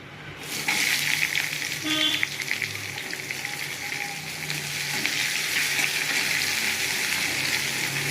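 Chopped onion tipped into hot oil already fragrant with whole tempering spices for a thin potato-and-papaya chicken curry, bursting into a loud, steady broadband sizzle that holds close and unbroken to the end.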